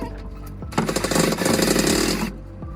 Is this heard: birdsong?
no